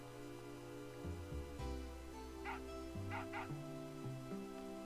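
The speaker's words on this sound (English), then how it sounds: "Oh, it's a doggy." Dog barking and yipping in the video game Final Fantasy VIII, a few short, soft barks and whimpers over quiet, steady in-game background music, with no talk over it.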